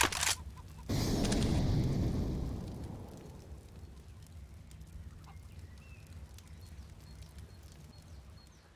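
An incendiary grenade in a first-person shooter game lands with a short burst, then erupts into a loud roaring whoosh of fire that gradually dies down to a low crackling burn.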